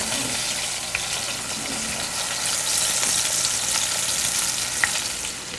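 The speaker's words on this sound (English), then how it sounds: "We're searing it to give it flavor." Meat searing in a hot pan during braising prep, a loud steady sizzle with crackling spits and an occasional sharp pop, no voices over it.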